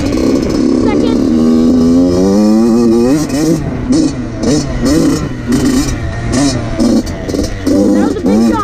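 A dirtbike engine revs and surges while riding a motocross track, pitch sweeping up and down with gear changes and throttle bursts, loud and close; a rider's voice is heard over it.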